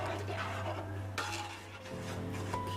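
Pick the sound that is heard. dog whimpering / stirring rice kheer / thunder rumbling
stirring rice kheer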